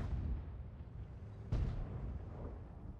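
A tank gun shot from an IKV in World of Tanks: one sharp, loud blast midway through a low, rumbling engine background, followed by a fading roar, with no talk.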